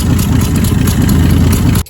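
A 1966 Dodge Dart GT barn-find engine running at a rough, steady idle, loud and close, with a low rumbling pulse that cuts off abruptly near the end.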